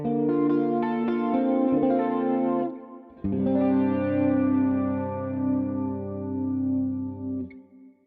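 A guitar plays through a Valeton GP200 clean amp model based on the Fender Bassman, with ringing chords that sustain, a brief gap, then a fuller strum that fades out at the end.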